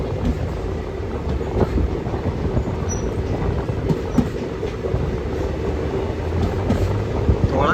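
The 20966 Intercity train running, heard from inside an AC chair car as a loud continuous rumble with faint rhythmic clatter from the wheels on the rails.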